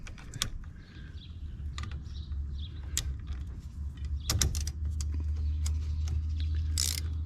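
Wrench ratcheting and tightening bolts on a Polaris Ranger brake, with scattered sharp metallic clicks and clanks over a steady low hum, close by with no talking.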